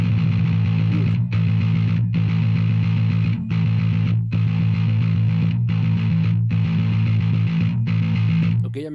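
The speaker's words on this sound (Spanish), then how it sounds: "Vamos a cambiar la distorsión para metal." Guitar played as MIDI bass through a metal distortion effect, chugging heavy distorted low notes in repeated bursts separated by short clean breaks, loud and steady.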